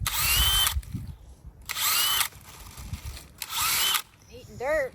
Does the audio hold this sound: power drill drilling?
yes